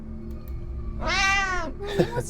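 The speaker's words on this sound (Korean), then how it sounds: "고양이." Cat meowing inside a video game called Last Light: a single clear, drawn-out meow rising then falling, followed by a shorter chirping mew over constant game background noise.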